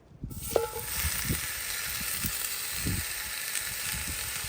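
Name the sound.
bacon sizzling while cooking outdoors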